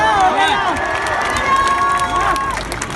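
Large crowd of protesters at a mass demonstration in France, a dense roar of many voices with shouts, whistles and cheering rising and falling, with people talking nearby.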